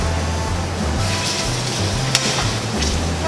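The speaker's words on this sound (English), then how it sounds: "We're gonna add the napa cabbage. Saute that in there." Napa cabbage sautés in a pan as filling for venison pot stickers, producing a steady, close sizzle with soft stirring and a single sharp tap midway.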